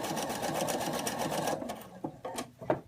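A Viking Topaz 30 sewing machine runs a zigzag stitch in a fast, even mechanical rattle for about a second and a half. It then slows to a few separate clicks and thumps as it stops.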